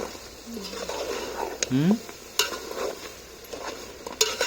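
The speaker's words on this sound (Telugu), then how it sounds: "కారం వేసుకున్నాం ముందుగా అలా కూరను మంచిగా నూనెలనే ఫ్రై చేయాలి" Chicken curry frying in oil with chili powder, with a steady background sizzle and occasional clinks of the stirring spoon. Someone talks over it throughout.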